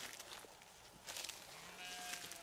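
Sheep bleat on a Turkish farm near Gölbaşı, Ankara, where a flock of some 300 head grazes maralfalfa fodder; several faint, brief bleats sound from a distance over breezy outdoor noise.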